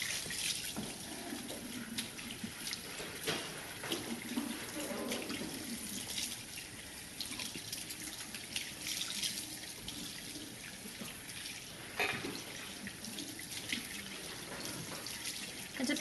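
Running tap water rinses hair in a salon sink after highlight cap removal, a steady splashing hiss that continues throughout with small surges and drips, fairly quiet and close.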